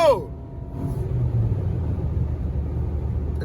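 A car pulls away during a Houston street drive: a brief falling engine tone at the start gives way to a steady, loud, low rumble that holds to the end.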